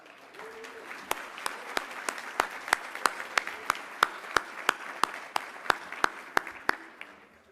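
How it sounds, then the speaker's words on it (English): Attendees at an ALS research session give themselves a round of applause. Sharp, evenly spaced claps sound close by, about three per second, over a softer, steady bed of crowd clapping. "Give yourselves a well-deserved round of applause."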